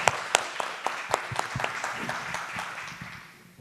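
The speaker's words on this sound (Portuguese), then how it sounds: "Uma salva de palmas para os palestrantes e para vocês" An audience at a state water-and-health seminar applauds the speakers: a burst of sharp, dense clapping that gradually thins and fades away.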